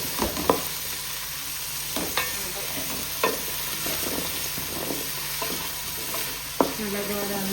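Onions sizzling in hot oil for chicken biryani, a steady quiet fry with repeated sharp scrapes and clacks of a spoon stirring against the pan.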